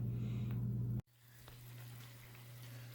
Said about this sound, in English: First, you're going to want to brown the hamburger.